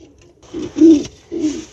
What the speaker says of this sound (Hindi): ये वाला कबूतर देखिए, लाहौरी शिराजी कबूतर है ये।